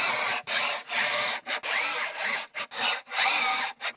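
Screws are driven into the wooden floor of a raised garden bed, about eight close, whirring bursts of a power driver, each stopping abruptly before the next one starts.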